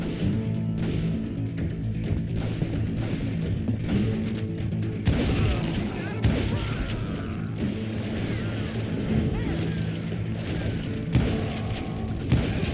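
Gunfire in the Western shooter Call of Juarez Gunslinger, heard as mechanical clicks and clattering thuds, then a louder burst of crashing shots mid-clip, all set against a steady humming game backdrop.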